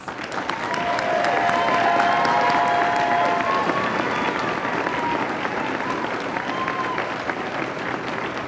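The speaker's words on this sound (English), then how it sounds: "Please join us in another round of applause." An audience applauds at a university awards ceremony, sustained, even clapping from a large crowd that swells in the first second and carries on at a steady level, with a faint tone and murmurs faintly beneath.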